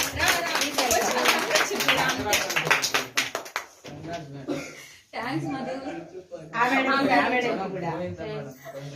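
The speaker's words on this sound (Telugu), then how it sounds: "బిగ్ క్లాప్స్ అండి, బిగ్ క్లాప్స్" Clapping from a crowd at a celebration event, mixed with chuckles and speech, loud at first, then fading as talking takes over with a brief burst later.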